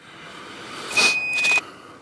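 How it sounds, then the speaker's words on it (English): A single high, shrill electronic beep from a shot timer sounds for about half a second over background noise, with a brief burst of noise around it. "The beeps happen."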